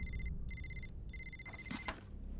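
A phone rings in repeated electronic double bursts, fairly faint, with a brief clatter near the end and no one answering.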